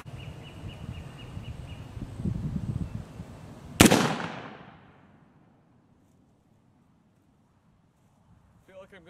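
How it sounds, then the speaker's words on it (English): A single loud black-powder blast from a Lyman Plains Pistol loaded with 3F Pyrodex, fired outdoors after some low background rumble, with the report ringing and decaying over a couple of seconds into near silence. "So we're going to shoot this over the chronograph and see what kind of results we get."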